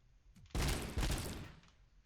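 Weapon fire in the shooter game Robocop: Unfinished Business, one loud blast followed by a second close shot, both ringing out over a quiet background.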